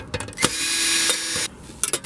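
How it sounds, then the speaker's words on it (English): Ratchet working loose the mounting bracket on an old car radio so it can move to a new stereo, giving quick clicking bursts and a sustained buzzing whir, close and fairly loud with short pauses. "I'm going to remove the bracket from the old radio because we have to transfer that to the new radio"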